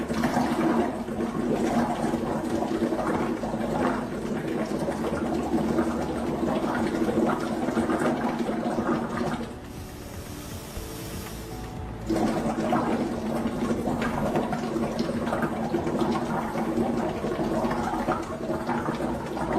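Steady hiss and gurgle of acidic CO2 gas bubbling into water samples, continuous and fairly loud with a brief quieter gap in the middle.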